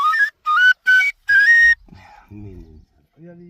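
A bansuri flute sounds four short, clear notes in quick succession during a summer camp at Mohand Marg, followed by faint low rustling and muffled sounds.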